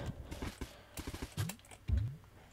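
Horse hooves clop in a video game, a handful of soft irregular hoof thuds with a couple of louder heavier impacts near the end.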